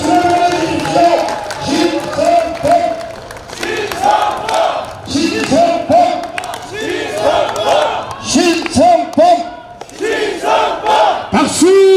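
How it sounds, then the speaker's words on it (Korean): Rally crowd at an election campaign event cheering and clapping, loud repeated chanted shouts in rhythm with scattered applause, close and energetic throughout. "여러분 많은 박수를 보내주십시오"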